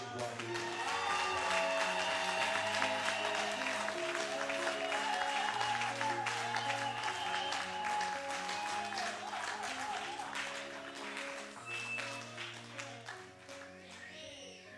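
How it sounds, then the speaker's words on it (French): A church congregation claps and cheers in acclamation, a sustained wash of applause over an organ or keyboard playing steady chords, gradually fading toward the end. "On acclame le roi."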